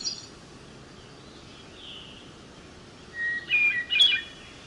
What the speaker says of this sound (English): Hermit thrush